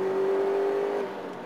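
Litchfield-tuned Subaru Impreza Type25 accelerating hard in fourth gear from about 3,000 rpm, a loud, steady engine roar with a sustained whine close by, easing slightly toward the end.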